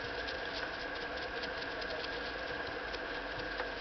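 A Singer 127 or 99 sewing machine runs steadily after cleaning, giving a continuous mechanical whir with a faint rattle and no pauses or talk.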